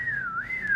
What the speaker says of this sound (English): this is the whistle when she uses it to make you ready and to take your attention to start playing sport.